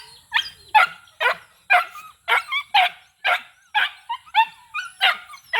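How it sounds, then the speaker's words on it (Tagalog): Several dogs bark in quick, repeated bursts, about a dozen sharp yips and barks in a steady run, fairly close and loud. "dito na naman itong mga makukulit na mga aso"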